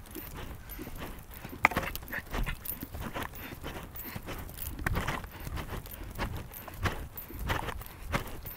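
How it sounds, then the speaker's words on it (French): Horse hooves beating in a natural gallop during a riding session, an irregular run of dull thuds repeating at a steady pace over a busy outdoor background, fairly close and of moderate loudness. "Toujours chercher le galop naturel des chevaux."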